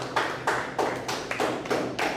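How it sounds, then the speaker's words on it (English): Congregation members at a church service clap in a steady rhythm, about six broad claps landing roughly every third of a second, close and moderately loud with no voices over them. "You can clap, I like that,"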